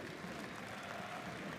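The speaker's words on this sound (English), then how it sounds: "Cheers from the crowd, applause from him." A basketball crowd in a Champions League arena cheers and applauds continuously. The broad, even roar of clapping and voices sits at a moderate distance and never stops.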